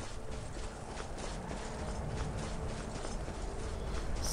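A horse's hooves clip-clop steadily in Skyrim, a busy, rhythmic clatter of hoofbeats mixed with mechanical clicking, close and fairly loud throughout.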